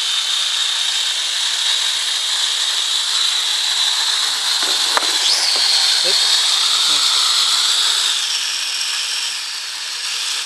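The rotors of a Zero-X Raven quadcopter drone spin with a steady, high-pitched whine that holds for several seconds and wavers briefly in pitch midway, with a few faint clicks underneath.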